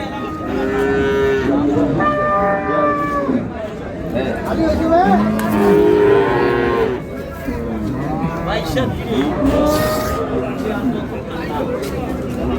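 Repeated bull calf moos, some long and wavering, sound close by while many voices chatter in the background at a cattle market in Dinajpur, Bangladesh.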